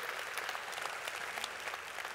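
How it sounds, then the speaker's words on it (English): A church congregation applauds during a sermon, a soft, even wash of many hands clapping together that stays steady and somewhat distant throughout. "Will you help me applaud everybody that's here in the house"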